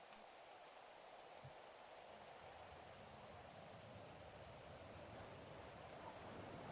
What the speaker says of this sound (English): The rain makes it so hard to hear anything.